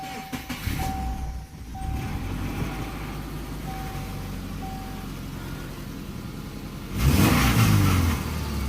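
A 2002 Subaru Forester engine idles steadily after a tune-up with new spark plugs, a faint chime sounding intermittently, then revs up sharply and quickly near the end.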